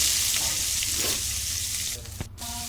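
Steady, close frying of whole spices in mustard oil with a constant sizzle and hiss, briefly broken near the end by a clatter and a short tonal ring.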